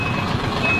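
A giant truck on a busy Cambodian street, its rumbling engine and traffic noise filling the background while a faint, steady reversing beep sounds throughout, all continuous and close with no talking.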